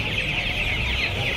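Chickens cluck continuously and loudly at a crowded poultry market in Uluberia, a steady busy layer of fowl calls with no talking.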